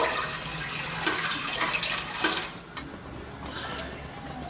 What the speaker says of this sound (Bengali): এতে প্রথমে আমি জল দিয়ে দেবো